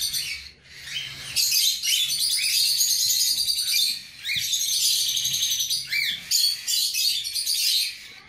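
Rosy-faced lovebird chicks chirp in their nest, a dense, continuous chorus of high, rapid peeping calls that runs almost without pause, close and loud, with one brief lull near the start.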